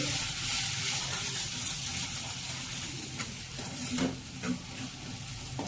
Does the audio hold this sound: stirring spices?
yes